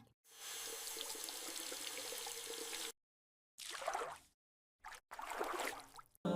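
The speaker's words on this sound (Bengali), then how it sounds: "পা ভালো করে ধুই" Water pours and splashes over the feet during wudu ablution, a steady hissing stream that cuts off, then returns in shorter bursts of gushing and trickling.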